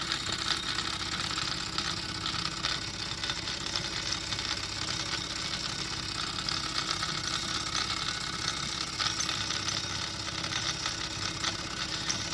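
A Wilesco D406 toy steam engine runs on a rolling road with a continuous, even mechanical chuffing and rattling. The sound is close and steady throughout, with no voices.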